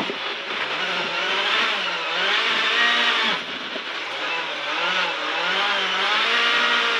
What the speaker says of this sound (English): This car is something magical, and it's very easy to drive even in gravel setup on tarmac.